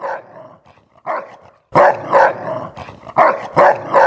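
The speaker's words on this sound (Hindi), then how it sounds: "कुत्ता काफी गुस्से में था।" Angry wild dog in a Hindi cartoon story, barking and growling in repeated gruff bursts, loud and close, a few softer yips first and then heavier paired barks.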